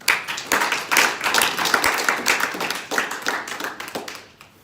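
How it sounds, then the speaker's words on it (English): A crowd at a company training event claps, with individual hand claps distinct within a lively, uneven round of applause that swells early and gradually thins out toward the end. "let's give AC a big round of applause."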